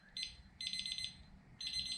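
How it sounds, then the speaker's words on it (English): A Thermoworks meat probe thermometer alarm sounds in three bursts of rapid high-pitched beeps, each lasting about half a second, clear and close over quiet background. "And there's your alarm."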